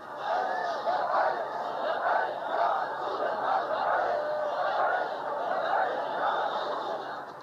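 A large crowd of TLP supporters shouts and clamors together in a dense, sustained roar of many voices rising and falling in waves, loud and continuous throughout.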